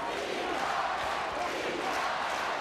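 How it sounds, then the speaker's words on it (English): Crowd at an under-20 Six Nations rugby match between Italy and Wales, a steady, distant roar of many voices rising in response to play, with no single voice standing out. "Well, the crowd responds."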